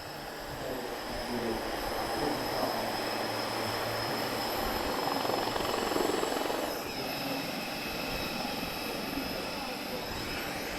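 Portuguese Navy Lynx helicopter performing at an airshow in Portugal, a steady loud rotor and turbine roar holding throughout with a broad hiss and a faint tonal whine, people talking over it.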